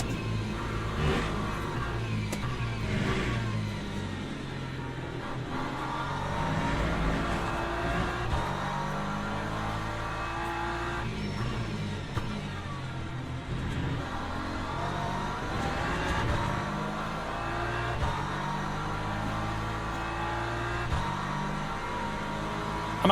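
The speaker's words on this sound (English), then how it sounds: "I'm having to rev it here, chat." A race car engine in Le Mans Ultimate drones and revs steadily, pitch climbing and falling through gear changes, loud and continuous for the whole stretch with no voices.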